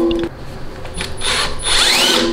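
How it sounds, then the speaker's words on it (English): A power drill whirs in short bursts, its pitch rising as it spins up, loud and close, with brief pauses between runs. "Let's drill it out."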